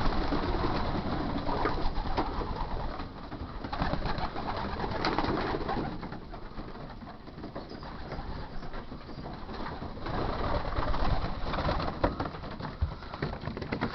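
Young racing pigeons in a loft kept on deep litter give a steady murmur of soft cooing and rustling throughout, at moderate volume with no talk.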